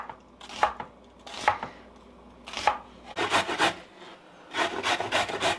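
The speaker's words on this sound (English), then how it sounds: "this is, like I said, the next step where I have to grate the carrots" Carrots rubbed against a grater, giving rough scraping bursts, first in slow separate strokes, then in quicker back-and-forth runs, close and fairly loud with no talking.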